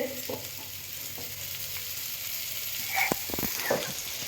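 Fish sizzling and frying in a pan at home, a steady soft crackle with a few sharper pops and stirring clatters near the end, fairly quiet with no talking.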